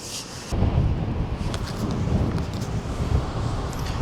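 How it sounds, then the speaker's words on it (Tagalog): Strong wind in a snowy place buffets the microphone, a loud low rumbling roar that jumps up after a brief quieter moment and keeps gusting unevenly. "sobrang lakas ng hangin."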